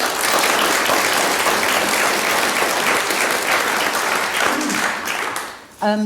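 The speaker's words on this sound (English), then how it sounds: "So a round of applause, please, for Gus." Sustained applause from a large crowd at a panel discussion, dense and steady clapping that fades out near the end, followed by a brief voice.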